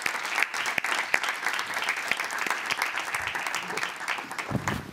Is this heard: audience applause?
yes